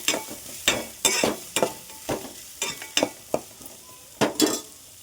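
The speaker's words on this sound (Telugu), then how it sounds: "ఆయిల్ వేడెక్కిన తర్వాత ఉల్లిగడ్డ వేసుకోవాలి." Onions fry in hot oil with a constant sizzle, punctuated by a dozen sharp scrapes and clinks of a utensil stirring against the pan at irregular intervals. There is no talking.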